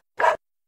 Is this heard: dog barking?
yes